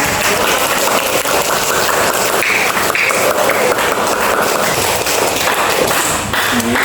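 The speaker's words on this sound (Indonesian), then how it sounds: "Mari kita sama-sama tepuk tangan untuk kita semua yang sukses membuat proyek di pembelajaran kita hari ini ya" A classroom group claps together to celebrate finishing a project, producing a loud, dense, continuous wash of hand claps with no break.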